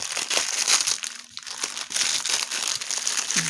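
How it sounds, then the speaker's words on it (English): Continuous crinkling and crackling of plastic packaging being handled up close, busy and fairly loud throughout with no talking. "Just sorry about all the crinkly noise."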